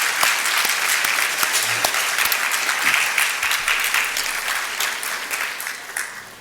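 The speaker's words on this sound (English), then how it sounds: "So let's give her a round of applause." A dinner crowd at an athletic hall of fame event claps for the woman who catered the meal, a sustained full round of applause with crisp individual claps near the front, slowly thinning toward the end.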